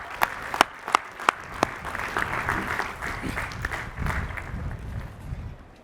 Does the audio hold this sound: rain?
no